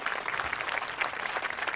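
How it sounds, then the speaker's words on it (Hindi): Audience applause at a staged event, a brief burst of dense, bright clapping from a crowd, steady and moderately loud. "मेरा मतलब तालियां, तालियां।"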